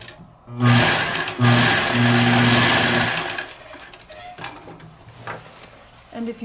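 A zigzag sewing machine stitches canvas for a suit coat front in loud bursts: a short run, a pause, then a longer steady whir that fades. Faint handling noises follow.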